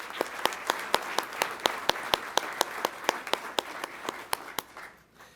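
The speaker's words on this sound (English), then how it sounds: "A round of applause for our instructor pilots, the best in the world." A crowd at a pilot training graduation ceremony applauds with steady, crisp claps that continue for several seconds before tapering off at the end.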